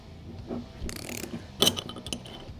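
A chain rivet tool tightened down onto a joining link pin, giving a few close, dry mechanical clicks and creaks with a sharper scrape partway through.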